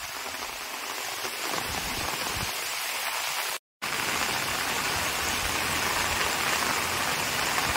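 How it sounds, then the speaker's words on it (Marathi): Heavy storm rain pouring down in a Konkan village, a dense steady roar of downpour with a brief dropout partway through, loud and continuous with no voices. "तर आता जोरदार वादळ आलंय आणि पाऊस सुद्धा आहे"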